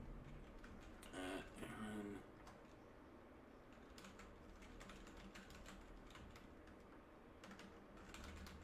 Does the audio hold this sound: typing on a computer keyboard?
yes